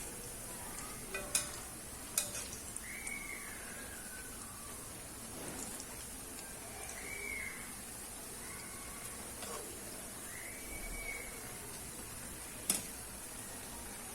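Lemon mandazis frying in hot oil give off a steady, soft crackling sizzle like light rain, with a few sharper pops and faint clinks scattered across it.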